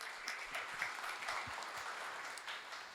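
Audience applause at an anniversary gathering of a film society, a soft, distant, even wash of clapping with scattered sharper claps, heard without talk.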